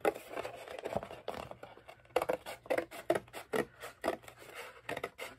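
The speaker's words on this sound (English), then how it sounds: "they seem to cut really nicely through the chipboard" All-purpose household scissors cutting through thick chipboard, giving a series of short, rough rasping snips in an uneven rhythm, close and moderately loud with no talking.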